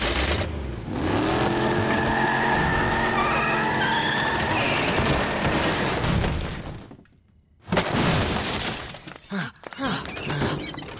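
A cartoon van arrives with a long screeching tire skid and rattling metal clatter, breaking into a brief silence before more bumps and scrapes, with voices talking over parts of it.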